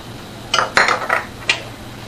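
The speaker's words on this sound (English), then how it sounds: "We'll mix these together in the small bowl" Cornmeal and flour being measured into a small bowl, a few close clinks and taps of a measuring cup and utensils against dishware, four distinct knocks over a quiet room hum.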